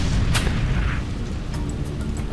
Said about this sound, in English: I wish these guns didn't all shoot off at the same time